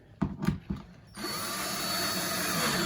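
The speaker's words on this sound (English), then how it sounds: "So now, put my screwdriver in." A power screwdriver drives screws into a shower basin. Three short bursts of the motor come first, then a sustained, louder whir as a screw is driven home. The sound is close and there is no talk.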